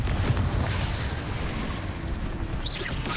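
Confringo blasting spell in Hogwarts Legacy erupts as a loud, sustained fiery explosion with a heavy rumbling roar that fills the scene, no speech over it.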